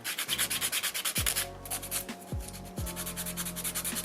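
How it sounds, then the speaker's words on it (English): A nail file rasps across an acrylic nail in quick back-and-forth strokes, a dry scratchy rhythm that pauses briefly and then resumes in shorter bursts, close and fairly quiet with no voices. "finish off filing this nail"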